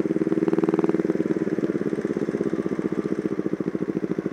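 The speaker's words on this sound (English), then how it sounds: "I can reach down here and adjust the idle." A motorcycle engine idles steadily and close by, with a fast even pulsing chug, while the idle is set with a small plastic knob between the carburetors.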